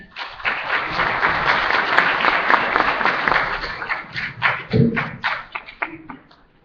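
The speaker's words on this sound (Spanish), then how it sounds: "Demos pues una cordial bienvenida con un fuerte aplauso al doctor Esteban Hernández." A crowd greets a speaker at an academic seminar with loud, steady applause that holds for several seconds before thinning into scattered claps and dying out.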